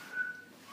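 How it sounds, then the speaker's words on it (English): A short whistled tone, a thin steady pitch held briefly and then a second quick note near the end, faint and close with no talking. "Maybe it was all that whistling."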